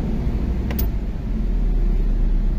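A car engine runs at a steady low rumble throughout, fairly loud and close, after an ABS warning light fault was traced to a fuse.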